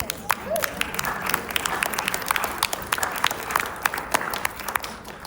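Applause from an audience, a steady patter of many hands clapping with sharp individual claps standing out, lasting several seconds.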